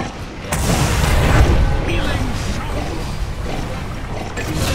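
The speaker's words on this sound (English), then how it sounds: "Tower has fallen." A tower being destroyed in the Dota 2 video game: a sudden loud boom rolls into a sustained rumbling crash that stays heavy for several seconds before easing slightly.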